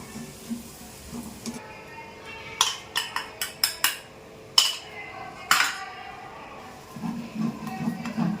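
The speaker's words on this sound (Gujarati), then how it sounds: "હવે ઘી છૂટું પડે ત્યાં સુધી આપણે સતત હલાવતા રહેશે" A spoon scrapes and clinks against a cooking pot as yogurt and spice masala are stirred, with a cluster of sharp metallic taps in quick irregular succession midway and softer stirring before and after.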